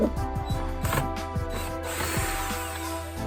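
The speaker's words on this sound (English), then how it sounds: "There are going to be these Phillip heads, and all you do is unscrew those." A power drill backs out Phillips head screws on a car, sounding as a series of short whirring motor bursts with ratcheting mechanical clicks, close and fairly loud, with no talking.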